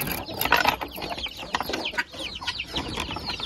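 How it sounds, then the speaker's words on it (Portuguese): Chickens clucking inside a simple farm henhouse holding about thirty hens and a few ducks, with busy overlapping clucks and scratchy rattling calls close by, no talking. "Tem mais ou menos 30 galinhas e alguns patos, não sei quantos."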